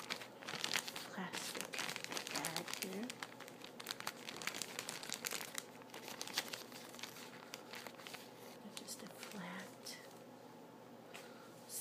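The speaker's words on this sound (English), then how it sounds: "Plastic bag here." A plastic bag crinkles and crunches up close in a quiet indoor grooming routine, soft continuous rustling with scattered sharper crackles and faint low sounds beneath.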